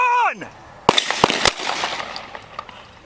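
Several sharp gunshots from deputies firing at a man holding a pellet rifle, a tight burst of loud cracks followed by scattered echoing shots, with noisy outdoor commotion between them.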